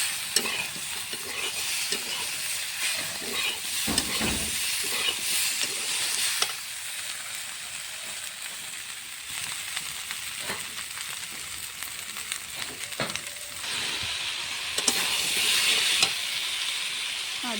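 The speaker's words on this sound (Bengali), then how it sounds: "আদা বাটাটা দিয়ে কিছুক্ষণ কষিয়ে নেব।" Mixed vegetables with okra and ginger paste being stir-fried in a pan, loud steady sizzling with repeated scraping strokes of a spatula, bursts of hissing that swell and ease over nearly twenty seconds, no voices.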